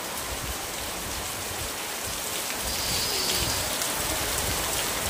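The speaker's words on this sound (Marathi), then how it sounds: "पाऊस बघा जोरदार मुसळधार पाऊस" Heavy monsoon rain pours down in a dense, continuous hiss around a village house, growing slightly louder partway through, with no voices.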